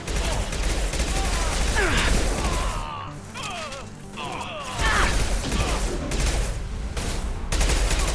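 Gunfire in the video game Mass Effect 2, a dense continuous stream of loud shots and impacts with a brief lull midway, mixed with game effects and some voice chatter.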